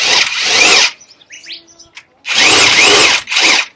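A power tool whirs in two loud bursts while threading lug nuts onto a car wheel assembly, with a brief quieter gap of clinking metal between them.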